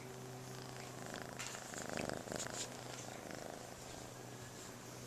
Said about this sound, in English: And you can purr for them too.